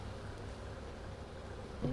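Honeybees hum at a hive during an inspection, a steady low buzzing close by, joined at the end by a louder, nearer drone as a bee passes.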